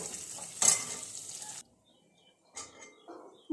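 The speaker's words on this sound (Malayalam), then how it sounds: "ആദ്യം എണ്ണയിച്ച് കടുക് വറുത്ത് സവോള ഇട്ടു" Mustard seeds and sliced onion fry in hot oil for a lentil curry, giving a faint sizzle with a brief louder stir, then a pause and a few soft kitchen clinks.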